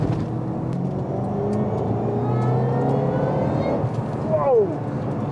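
Shelby GT500 Mustang with a supercharged V8 accelerating through the gears, its engine roar building steadily with a rising whine on top, close and loud inside the car.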